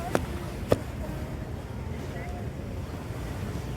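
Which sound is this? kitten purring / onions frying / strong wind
strong wind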